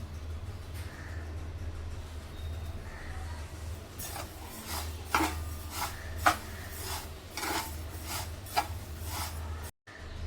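A hand stirs roasted mukhwas seeds in a pan, making dry rustling scrapes that grow into a series of sharp, rhythmic raking strokes over a low steady background hum.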